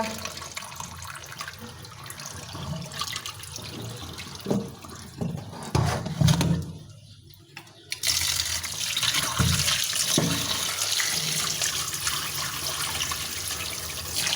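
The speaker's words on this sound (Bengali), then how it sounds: "তো আলুগুলো ধুয়ে নিতেছি" Potatoes are washed under water at a kitchen tap, with irregular splashing and sloshing that becomes a steady, louder stream of running water in the second half.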